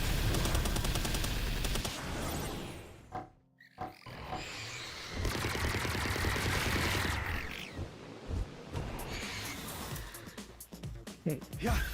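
Gunfire rings out in Palworld, the shooting game, with bursts of rapid shots that come and go loudly over roughly twelve seconds, mixed with other game effects and a busy backdrop.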